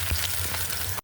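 Eggs frying in hot oil give a dense, steady crackling sizzle, close and even throughout before cutting off abruptly, with no speech.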